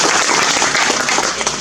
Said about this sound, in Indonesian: Tepuk tangan dulu yang mulia.